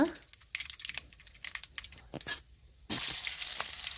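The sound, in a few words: mustard seeds and urad dal frying in coconut oil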